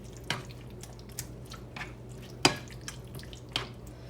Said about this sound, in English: I'm just gonna give this a stir.